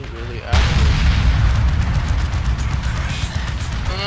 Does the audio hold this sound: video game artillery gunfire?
yes